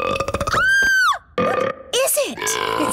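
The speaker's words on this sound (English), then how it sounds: "It seems to be a box of burps" Loud, drawn-out cartoonish burps come from a box of burps, several in a row with short gaps between them. They sound close and exaggerated, with a wavering, voice-like pitch.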